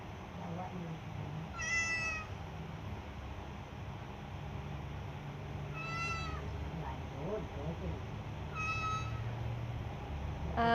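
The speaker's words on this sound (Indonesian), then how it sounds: "Hewan yang pertama yang akan saya berikan contoh yaitu suara kucing." A recording of a cat plays three separate meows, evenly spaced a few seconds apart, over a constant faint background hiss.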